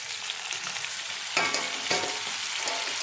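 Tomatoes fry in ginger-garlic paste for mutton curry, a bright crackling sizzle up close with sudden louder bursts as they are stirred or added, and no talking.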